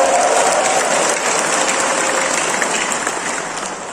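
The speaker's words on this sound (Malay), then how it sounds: "Berikan tepukan gemuruh." Thunderous crowd applause at a Perikatan Nasional political rally in Sabah, loud and dense at first, then gradually fading.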